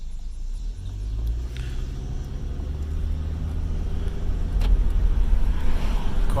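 A 2015 Nissan Altima drives along with a low, steady engine and road rumble heard from inside the car, growing slightly louder toward the end, with no voices.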